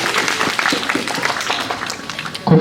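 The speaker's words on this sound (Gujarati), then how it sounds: "હવે આપણે સૌ તાળીઓથી અભિવાદન કરીશું." Villagers clap for a district panchayat member at a village gas distribution event, a brief burst of fairly dense, close applause.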